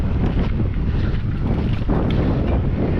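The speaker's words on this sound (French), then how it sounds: "Il y a du vent là sur la crête" Steady, loud wind buffets the microphone throughout on an exposed ridge during an electric-assist mountain bike ride on the crest circuit at Soorts-Hossegor, a continuous low rumble with no talk.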